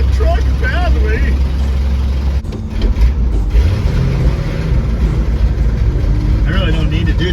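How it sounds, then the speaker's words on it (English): A 1979 Ford F250 truck engine runs steadily while driving, a continuous low rumble close by, with people talking over it. "you're sure driving that truck badly."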